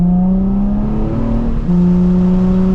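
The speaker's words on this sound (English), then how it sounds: "Downshifting. I mean, the downshifts are just stupendous." A Nissan 350Z engine downshifting, loud and close, its steady engine note jumping sharply upward in pitch as revs rise, then settling into a new steady drone, with no voices.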